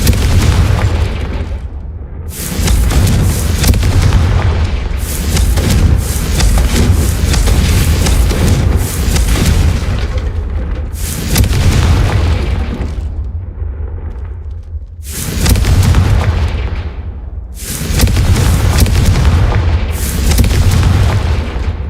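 Repeated Confringo fire-blast spell explosions in the Hogwarts Legacy video game, a series of loud, booming blasts about every two to three seconds, each with a roaring burst and short decaying tail, alone without talk.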